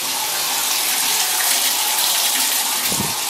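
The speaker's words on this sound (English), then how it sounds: "the water won't turn off." Water from a shower that won't turn off rushes steadily and loudly, a continuous broadband hiss with no breaks.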